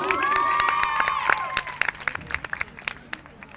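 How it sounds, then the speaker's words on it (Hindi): A live show audience claps and cheers loudly for a contestant at a Tapal Season 2 event in Ruffi Green City, a dense roar of applause with shouts that thins into scattered claps and fades. "जी आइए, जरा तालियां जोरदार, कमाल।"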